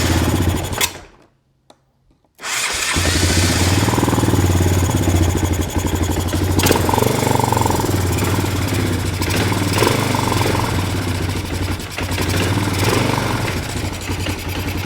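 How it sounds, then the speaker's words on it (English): A 1998 Honda Recon 250 ATV engine runs loud and uneven, a rough rattling idle after a brief silent gap near the start, chugging on steadily with no talk. "The motor is starting to sound worse when idling."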